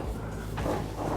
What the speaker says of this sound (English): that cabinet up there, which I have to open the refrigerator doors to reach